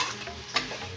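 Jujube pickle with jaggery is stirred gently in a pan, giving a steady close sizzle with a soft scraping stir and one brief louder scrape midway, with no talking.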